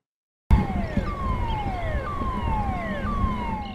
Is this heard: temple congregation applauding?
no